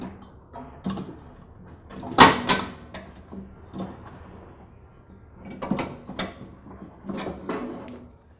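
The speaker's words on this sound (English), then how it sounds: "Then I can lift the pulley off of this spindle and remove the belt from around the pulley." Drive belt and pulley being worked off a spindle on a Troy-Bilt Pony lawn tractor: scattered metallic clunks and scrapes, with a sharp clank near the start and a cluster of knocks toward the end, close and fairly quiet.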